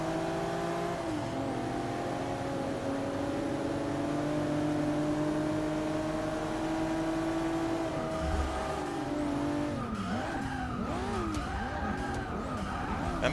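Race cars in Forza Motorsport 6, including Mercedes and BMWs, roar steadily with sustained engine drone and gear shifts, then tires screech and skid in wavering squeals near the end.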